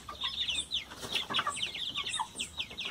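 Month-old free-range chicks cluck and peep in an open ranch coop, a busy overlapping chatter of short high calls close by, with a few louder bursts.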